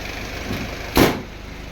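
A diesel owner-type jeep engine idles with a steady low rumble close by, broken by one brief louder knock or thump midway; no one speaks.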